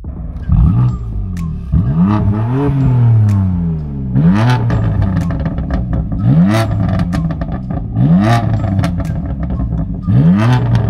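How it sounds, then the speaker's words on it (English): A BMW M4 Competition hardtop convertible's engine revs repeatedly, rising and falling in sharp, loud bursts with crackling exhaust pops between throttle blips. "take a listen and see why the M4 competition is such a special car"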